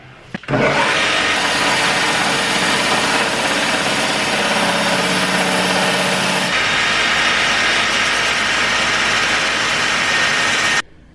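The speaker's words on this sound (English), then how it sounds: "I'm going to use this machine. It's called a linisher." A loud abrasive grinding roar as a linisher belt sander grinds metal, starting abruptly, running steadily for about ten seconds with a shift in tone midway, then cutting off.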